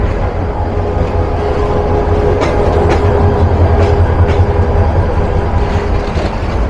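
A 2700 class locomotive hauls the Nasirabad local express, a passenger train on the Dhaka to Kishoreganj line with riders on the roof, rumbling steadily and close with a continuous low roar and faint rail clatter.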